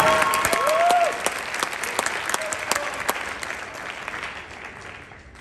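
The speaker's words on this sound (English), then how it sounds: "Another round of applause for Yeju." An audience at a symphonic band and wind ensemble spring concert claps for an award winner, dense steady applause that slowly thins out, with a brief voice near the start.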